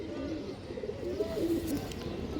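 Pigeons cooing softly in low, throaty murmurs, a steady rolling coo that continues throughout at close range.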